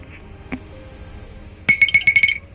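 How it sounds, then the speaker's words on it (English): A 20-sided die dropped into a carnival prize cup, a quick run of bright clattering clinks as it bounces and settles, after a faint earlier tap, close in a quiet room. "that's the sound of a dice going into a cup that my daughter won at a carnival."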